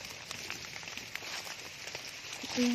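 Soft, steady rainfall patters on surfaces, a faint continuous hiss with scattered drops.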